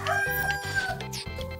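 A rooster crows loudly in the Story of Seasons: Friends of Mineral Town farming game, with a drawn-out, wavering call over steady game background music.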